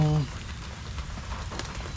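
Steady rain patters on a surface close by, a dense even spatter of drops with a brief low hum at the very start.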